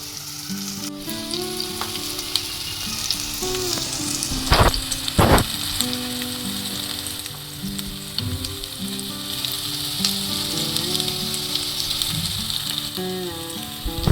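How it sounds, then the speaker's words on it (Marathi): Chopped onion frying in a pan for Konkani chicken, a loud, steady close sizzle with scraping stirs and a couple of sharp spoon knocks, while background music plays beneath. "आता आपला कांदा चांगल्या प्रकारे शिजत आहे बघा."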